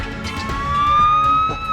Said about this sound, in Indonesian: suara ambulan Pak Bos